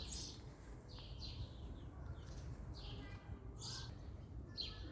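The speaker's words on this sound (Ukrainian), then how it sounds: "Пташки співають." Several birds sing and chirp in bright, repeated bursts over a soft garden background among tree peonies, fairly distant and gentle.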